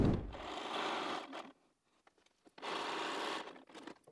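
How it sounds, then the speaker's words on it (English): A sewing machine stitches a quilt block for a Railroad or Sawtooth Star design, running in two steady bursts of about a second each with a short pause between, faint and close with no talk. "So I'm now going back to the machine and I'm going to sew that together."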